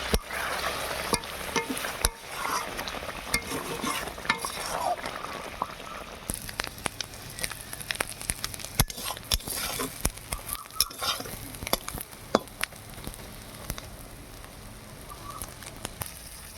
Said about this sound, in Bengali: ডিম ভাজা হয়ে গেছে, এবার নামিয়ে আনবো।